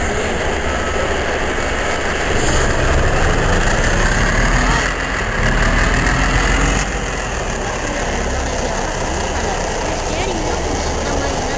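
Ashok Leyland lorry engine from the Indian truck-driving game Truck Masters India, a steady low diesel drone that swells and eases as it runs, heard from the cab throughout, with a voice talking over it.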